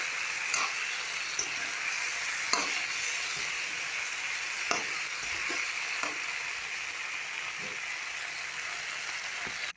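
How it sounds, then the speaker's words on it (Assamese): Chicken sizzles steadily in a pan after garam masala is added, with a spoon stirring and scraping at irregular intervals, producing occasional sharp clicks over a constant frying hiss, with no talk. "ভালকৈ লৰাই লৈছোঁ আৰু পুনৰ 5 মিনিটৰ কাৰণে এইখিনি ভালকৈ ভাজি ল'ম।"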